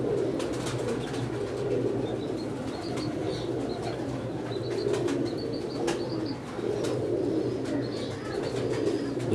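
Teddy pigeons with yellow eyelids give soft, repeated low coos close by, set against a steady hum of background noise.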